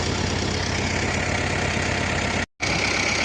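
A T-40 tractor engine idles steadily with a dense, continuous mechanical drone, close and loud, broken by one brief dropout near the end; no one speaks.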